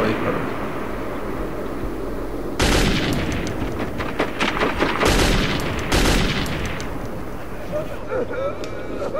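Gunfire in the first-person shooter Metro 2033, with loud bursts of shots and booming reports that start abruptly and come in clusters, then fade into rumbling ambience.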